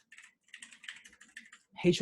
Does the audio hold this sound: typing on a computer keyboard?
yes